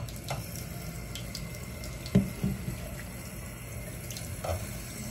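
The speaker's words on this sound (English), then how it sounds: "I'm gonna rinse this off with warm water." Warm tap water runs steadily into a sink while an Aztec clay face mask is rinsed off, with a soft, continuous splashing and a few brief louder splashes and drips.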